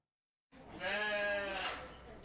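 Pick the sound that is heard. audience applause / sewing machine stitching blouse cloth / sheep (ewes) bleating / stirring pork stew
sheep (ewes) bleating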